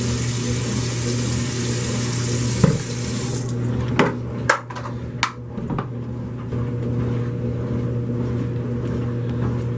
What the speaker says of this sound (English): I'm gonna put some warm water first